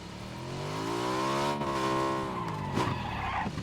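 A moped in PUBG: Battlegrounds skids with a long, wavering tire squeal over its buzzing engine, the whine bending down and back up before fading into rougher scrapes.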